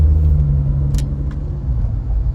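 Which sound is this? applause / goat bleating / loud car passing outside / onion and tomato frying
loud car passing outside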